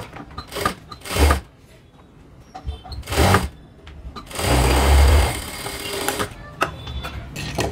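An electric sewing machine stitches along the lining of a blouse in several short, close whirring runs. A longer burst comes near the middle, with quiet handling pauses between the runs.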